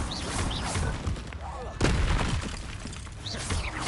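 Glacius and Confringo spell blasts in the video game Hogwarts Legacy, a loud string of booming, shattering impacts with one heavy hit in the middle, and a voice speaking over them.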